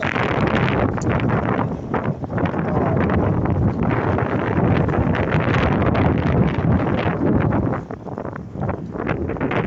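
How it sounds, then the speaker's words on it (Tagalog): Strong wind buffets the microphone continuously, a loud roaring rush with gusty fluctuations and no voices. "Oo, sarap ng hangin."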